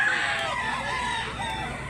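A prized Cebu gamecock crows once up close, a strained harmonic cry that bends and trails off over two seconds.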